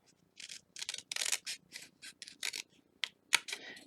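A series of short, crisp scissor snips through paper, irregularly spaced and close by, with quiet pauses between cuts.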